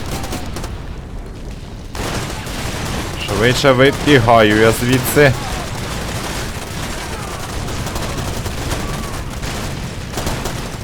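A burst of rapid gunfire in the video game Far Cry 2 rattles in the middle, surrounded by steady background noise, with someone speaking briefly over it.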